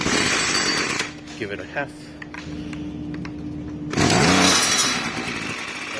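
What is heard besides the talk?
Ryobi 2-stroke weed eater engine starting and running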